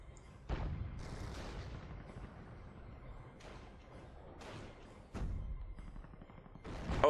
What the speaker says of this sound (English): direct hit from the Churchill.